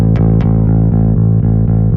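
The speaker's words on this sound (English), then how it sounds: "let's turn on a little bit of distortion" A sustained, heavily distorted electric guitar drones low and thick, with faint rhythmic pulses under the buzzing tone.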